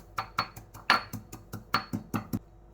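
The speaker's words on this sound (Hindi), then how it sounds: "इसे मैं हमाम दस्ते में ही कूट रही हूँ" Mustard seeds are pounded in a mortar and pestle, giving about a dozen sharp, evenly spaced knocks and crunches in a steady rhythm, fairly quiet and close, with no voices.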